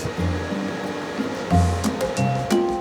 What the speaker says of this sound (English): That is the noise of these computers working away.